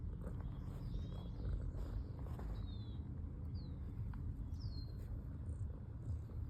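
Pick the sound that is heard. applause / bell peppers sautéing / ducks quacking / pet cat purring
pet cat purring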